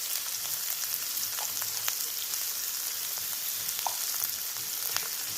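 Turmeric, salt and Kashmiri red chili powder frying in oil in a pan for a Rangpur-style egg curry, giving a steady, close sizzle and crackle throughout, with no talking.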